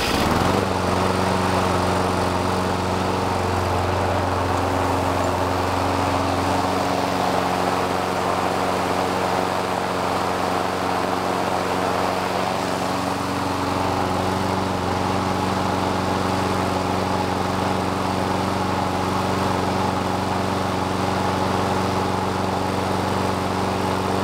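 Gas lawn mower engine on a cold start, catching and settling into a steady, loud, continuous drone close by, holding an even idle throughout with no talking.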